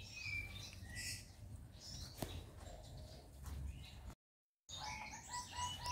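A caged breeding bird in an aviary kept for red-eyed Mojopahit mutations chirps and tweets, with a mix of short calls and song phrases over steady background hiss, continuing after a brief dropout.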